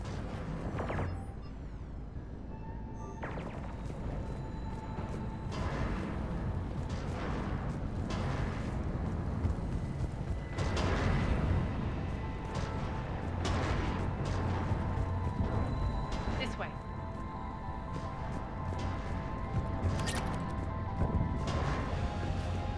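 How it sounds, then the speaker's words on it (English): Heavy cannon fire in the sci-fi shooter Mass Effect 3 booms repeatedly over a dense rumbling battle din, with sharp impacts and crashes breaking through at irregular intervals. "Those cannons have to be stopped."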